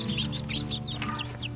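Soft, repeated high peeping and clucking from young chicks, quick and rhythmic, over a steady low background hum.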